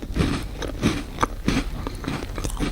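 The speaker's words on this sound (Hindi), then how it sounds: "अब मैं अपने जबड़ों को चबाते हुए सुनना चाहती हूँ" Jaws chewing on crunchy jalebis, heard up close as rhythmic, regular bites and crunches about every third of a second, loud and alone without talk.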